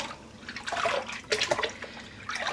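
Dyed yarn skein dunked into a soaking tub and squeezed out, giving close sloshing splashes and trickling water in two or three bursts.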